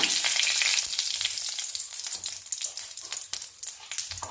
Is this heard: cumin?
yes